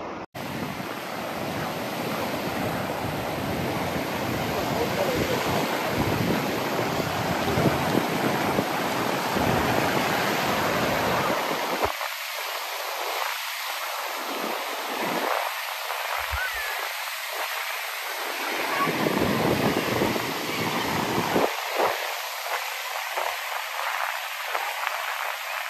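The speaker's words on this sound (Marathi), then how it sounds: "हवा एवढी सुटलेली आहे ना, त्याच्यामुळे लाटा बघू शकता तुम्ही. एवढ्या लाटा आहेत ना," Sea waves and strong wind on Rimini beach, Italy, a loud broadband roar of surf with wind buffeting, easing briefly in places and swelling again throughout.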